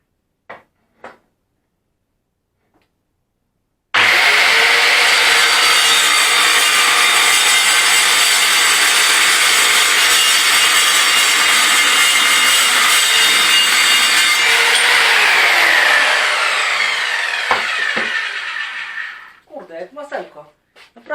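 An Evolution R185 CCS saw grinds loudly and steadily through sheet metal for several seconds, then stops, leaving brief rattles and clatter afterward.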